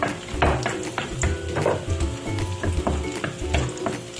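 Garlic sautés in hot oil while being stirred for chicken liver, a steady close sizzle with rhythmic scraping and clinks of a utensil against the pan.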